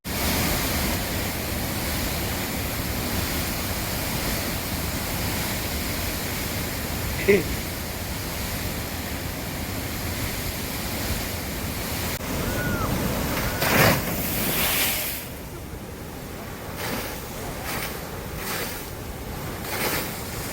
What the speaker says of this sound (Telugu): జల జల గోదావరి నీళ్లు సపోర్ట్ చేసుకుంటే ఎట్లా ఉరుకుతున్నాయో